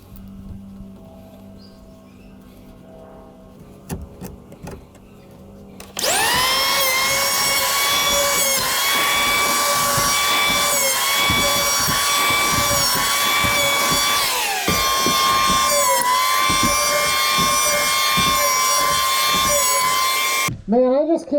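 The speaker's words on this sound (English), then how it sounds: "I've got the power plane here" A handheld power plane shaves clay off a boat frame, starting after a few seconds of quiet handling noise and running loud and steady with a high whine and rough cutting rasp until it cuts off near the end.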